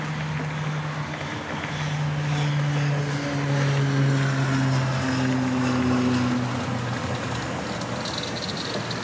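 A plane departs runway 31 left at Dallas Love Field at night, a sustained loud engine roar with droning propeller-like tones that swell and slowly shift pitch as it accelerates, with no voices.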